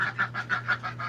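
A rapid series of about six duck quacks comes close together at an even rhythm, fairly loud over the steady drone of a nearby evaporative cooler.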